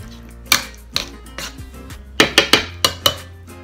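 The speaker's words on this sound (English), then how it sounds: "You can mix the green beans here." Green beans for a Thanksgiving green bean casserole being mixed in a dish, giving several sharp utensil clinks and scrapes against the dish, some single and a quick run of four or five near the end, close and clear.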